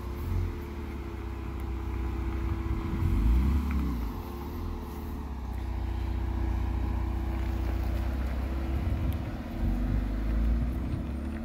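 A 2014 Jeep Cherokee Trailhawk fitted with a MagnaFlow performance exhaust pulls away, its low engine and exhaust drone swelling and easing as it accelerates, loud and fairly close throughout.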